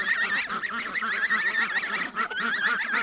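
A group of farm ducks roaming the edges and hunting slugs gives off continuous overlapping honking quacks, close and busy, with no one talking.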